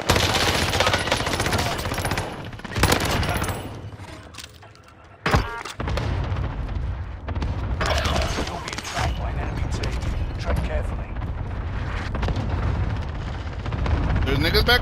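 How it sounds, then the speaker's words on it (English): Heavy gunfire in a shooter video game, sustained loud bursts of automatic fire and booming impacts with a brief lull midway, and a voice talking faintly underneath. "they're shooting you"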